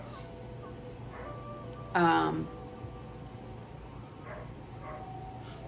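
A dog gives a single short bark in the distance, brief and fairly faint, heard once under a quiet indoor hum while someone talks.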